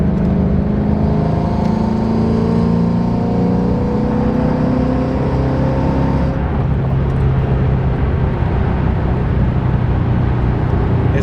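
A 2014 Ford Mustang GT with a quiet aftermarket muffler setup cruising on the highway, giving a steady low engine drone with constant road and wind noise and no speech.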